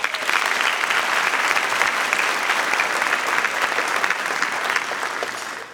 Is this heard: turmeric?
no